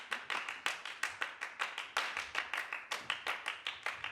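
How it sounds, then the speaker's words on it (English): Dancers clap their hands as part of a dance piece, making crisp, quiet, evenly spaced claps in a quick steady rhythm of about four per second, heard alone without voices. "one simple idea, just clapping, can create lots of colours and different textures"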